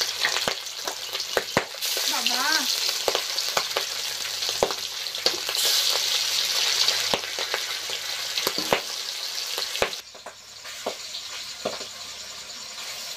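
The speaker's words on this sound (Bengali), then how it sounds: "ফুটছে, তেল ফুটছে।" Kan magur catfish from the river frying in very hot oil, with a loud, steady, close sizzle and frequent sharp pops and spatters throughout, as one brief spoken word is heard over it.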